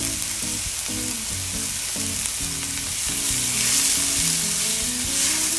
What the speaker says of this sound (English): we will continue stirring and allow these to saute